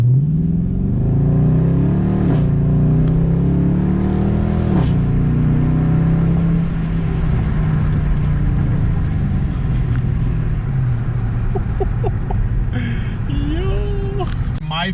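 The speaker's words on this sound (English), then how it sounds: "I want to do a 0 to 60 for you guys real quick." A Dodge Charger R/T roars as it accelerates hard from zero to sixty, pitch rising through several manual-shifted gear changes, loud and close, with a voice speaking briefly near the end.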